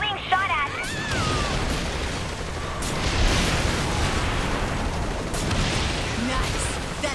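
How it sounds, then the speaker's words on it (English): Scattered gunfire and explosive bursts in the video game Saints Row 3, a busy, steady din of shots and impacts through the whole stretch, with mechanical clatter and a voice talking over it. "Think we're still being shot at."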